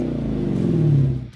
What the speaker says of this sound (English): when that Hemi V8 engine starts revving up